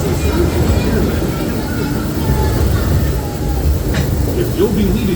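Disneyland Railroad passenger train, Holiday 4 Green, rolls steadily along the rails near New Orleans Square Station with a continuous low rumble and faint squeaks, while a recorded announcement voice speaks over it.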